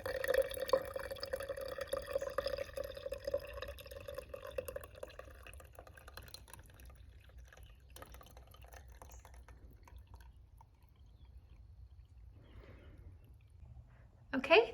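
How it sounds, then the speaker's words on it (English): Dandelion tea, strained through a coffee filter, is poured into a cup with a faint, steady trickle and soft dripping. It stays quiet and low throughout, with a brief louder rustle at the very end. "I'm just gonna pour the rest of the liquid into my 2nd cup"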